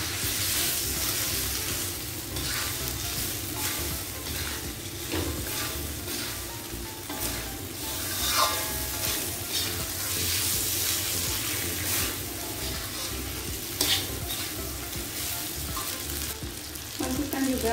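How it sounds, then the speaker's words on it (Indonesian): Lontong with softened carrot frying and being stirred in a pan, a continuous loud sizzle with scraping stir strokes and occasional clinks throughout, no voices. "Ini carrot sudah lembut, saya akan masukkan lontong."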